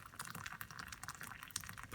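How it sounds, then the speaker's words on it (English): Hot water poured into a cup over Tazo Earl Grey tea: a steady, continuous splashing trickle heard up close for about two seconds, with no voices over it. "pour some hot water."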